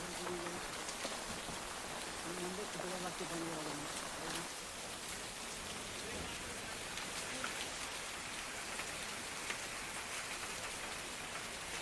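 Heavy rain pours steadily during floods in Nanded, a dense, even hiss of drops on surfaces throughout, with a faint voice briefly audible underneath.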